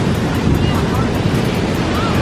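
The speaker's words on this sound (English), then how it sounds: "Seems to be enjoying the sounds of the waves." Ocean waves on a beach, heard as a steady, loud, broadband roar of surf with wind noise, with no distinct individual breaks.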